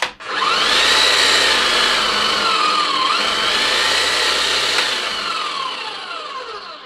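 Bosch GSH 11 E demolition hammer running continuously and loudly up close, a dense steady roar with slight pitch wavering that holds for several seconds before tapering a little at the end; no voices.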